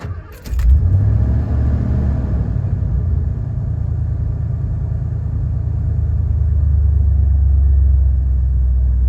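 A Ford Windsor V8 cranks briefly and catches, then settles into a steady, smooth, deep idle rumble that holds close and loud, with a faint clink of keys at the start.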